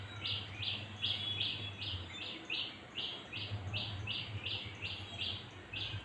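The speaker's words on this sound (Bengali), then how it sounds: "আর শুনতে পাই পাখির কলতান" Small birds in a quiet, secluded garden grove, one bird repeating a bright, high chirping call at a steady rhythm about twice a second, close and clear over a faint low hum.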